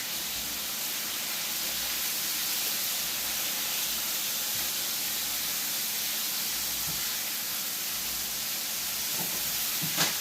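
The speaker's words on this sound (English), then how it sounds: "You may hear in the background I got some sizzling going on." A steady, dense hiss of frying runs throughout at moderate level, with a few faint crackles near the end and no voices.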